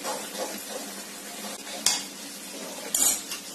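A spoon stirs semolina (rava) soaked with freshly poured sugar syrup in a pan off the heat, giving a steady soft scraping and mixing, broken by a couple of sharper clinks against the pan.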